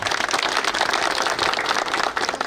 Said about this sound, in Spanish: un aplauso por favor a Walter